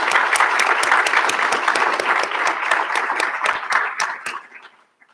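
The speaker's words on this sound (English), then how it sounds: "Please join me in giving them a hand of applause." Graduation recognition ceremony audience applause, a full steady clapping from many hands that gradually thins and fades out near the end.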